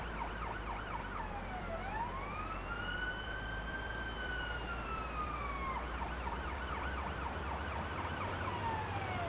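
Ambulance siren from a driving video game, the vehicle speeding to a house fire: a loud, continuous wailing siren sweeping slowly up and down in long cycles over a steady engine and road rumble, no talking.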